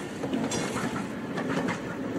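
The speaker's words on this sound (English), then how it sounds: "tram" A tram rolls along its rails with a steady rumble and faint rhythmic clatter from the wheels, fairly close and continuous.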